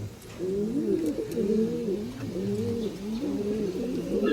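Homing pigeons, including a white homer, coo in continuous overlapping rolls close by, a steady layered murmur of several birds with no speech.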